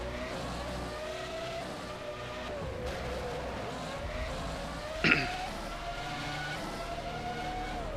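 Race cars in a GP1 event at the Uncanyon Grand Prix drone steadily at a distance, engine pitch sliding down as they slow, with one sharp squeal-like burst midway.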